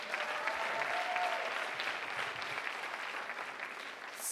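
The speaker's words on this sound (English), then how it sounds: "Can we have another round of applause for them?" An audience applauds student presenters at a high-school slam poetry writers' event, a steady wash of many hands clapping at moderate loudness that holds throughout with no talk over it.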